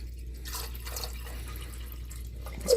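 Glitter-filled water drips softly and intermittently while a Disney Peter Pan Big Ben clock tower snow globe is being repaired; the drips are faint and close, with no talking.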